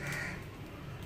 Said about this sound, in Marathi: कावळा पण ओरडतोय, कुत्रा पण ओरडतोय